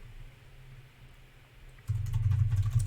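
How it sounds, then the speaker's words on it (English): Typing on a computer keyboard while checking a Windows domain join, a burst of fast, close, steady keystrokes that starts abruptly after a quiet stretch, with no voices. "we are going to type in here"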